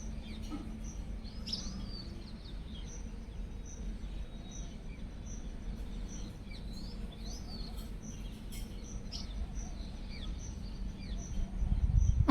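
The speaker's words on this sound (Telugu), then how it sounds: "ఎర్లీ మార్నింగే 6 o'clock కి లేచి బయటికి చూస్తే బర్డ్స్ సౌండ్స్ భలే వినిపిస్తున్నాయి." Birds chirp and twitter faintly at a distance in the early morning outside a house near a neem tree, with scattered short calls over a steady low background hum and a faint insect drone.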